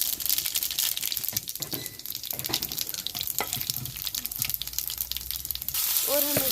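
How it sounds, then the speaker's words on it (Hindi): Whole spices hit hot oil in a pan and give a continuous bright crackling sizzle, with some stirring scrapes and a short clink near the end. "तेल गर्म हो चुका है। अब इसमें हम कुछ खड़े मसाले डालेंगे।"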